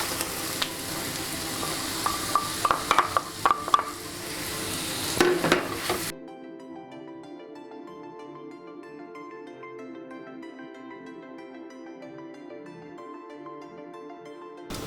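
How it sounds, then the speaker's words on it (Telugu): Beetroot pieces stirred and frying in a pan with turmeric: steady sizzle with a few clinking spoon strokes against the pan for about six seconds, then cut off. "కట్ చేసి పెట్టుకున్న బీట్రూట్ ముక్కలు వేసుకుందాం."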